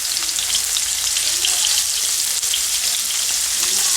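Shrimp sizzling and frying in a pan for a spicy shrimp fry, a steady, dense crackle of hot oil that stays loud and even throughout with no talking.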